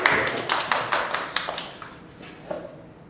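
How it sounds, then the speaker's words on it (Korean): A small group claps hands briefly at a morning workshop, a handful of sharp, separate claps spread over about two seconds that thin out and fade. "박수 한번 치겠습니다"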